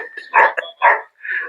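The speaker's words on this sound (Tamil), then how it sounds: "இவங்கெல்லாம் பேசும்போது நாய் குறைக்கல, ஆனா நான் பேசும்போது குறைக்குது." A dog barks three times in quick succession close by, each bark loud and full, with a short yelp between the first two and a gap before the last.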